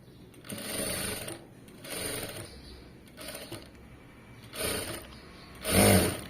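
A sewing machine stitching thread piping runs in five short bursts of rapid mechanical clatter separated by pauses, close and loud, with the last burst strongest.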